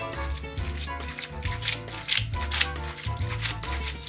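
Cacio e pepe pasta stirred and tossed vigorously in a pan, giving quick, irregular wet slapping and scraping strokes over a steady low hum, close and fairly quiet.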